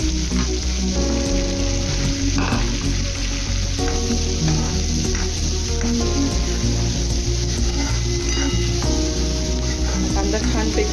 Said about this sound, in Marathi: कांदा घालून घेऊया.